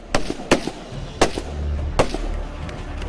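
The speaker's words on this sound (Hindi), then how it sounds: "भागते दुश्मन पर फायरिंग, खुद भागते दौड़ते हुए फायरिंग, ऊंचाई से नीचे की ओर फायरिंग" Gunfire rings out during an Indian Army firing drill: four sharp, loud reports at uneven intervals, each with a brief echoing tail over low background rumble.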